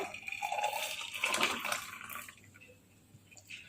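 Reduced warm milk pours into a mixture in a home kitchen, a soft liquid splash and trickle that tapers off after about two seconds, faint and close with no talk.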